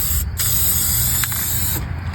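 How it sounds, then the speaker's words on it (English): A can of black spray paint hisses in a C4 Corvette engine bay, loud and close, in one long burst with brief pauses near the start and end. "I'm going to hit the white up there with the can of black spray paint"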